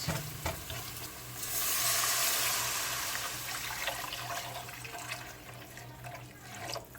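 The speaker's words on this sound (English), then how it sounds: "Then I'm gonna add about 6 cups of water" A steady stream of water pours into a pot, a continuous hissing gush that swells briefly, then carries on at a fairly even level.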